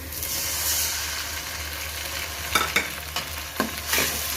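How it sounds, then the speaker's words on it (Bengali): Browned onions with spices frying for goose curry, a steady hiss and sizzle in the pan with a few sharp scrapes of a stirring utensil toward the end, close and with no talking. "এখানে আমার পেঁয়াজগুলো বাদামিগুলো হয়ে আসছে এখন আমি মশলা দিয়ে দেবো সবগুলো"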